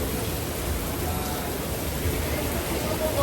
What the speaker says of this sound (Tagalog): Then sobrang lakas ng ulan.